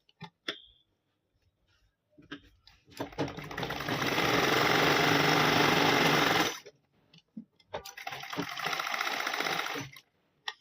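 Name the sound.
sewing machine stitching fabric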